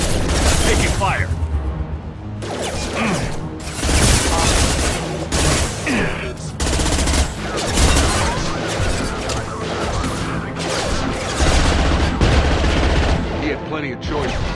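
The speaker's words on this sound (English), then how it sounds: "Taking fire!" Heavy combat gunfire in the video game Mass Effect: dense bursts of rapid automatic shots and booming impacts close by, coming in waves with brief lulls, while voices call out over the shooting.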